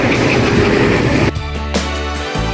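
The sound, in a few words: Prague tram passing on a street in Krasnodar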